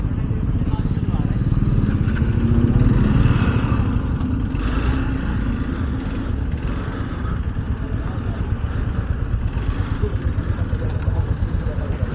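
Rented motorcycles riding on the route toward Sonprayag near Kedarnath, a continuous loud engine drone and wind rumble from close by, steady throughout with speech over it.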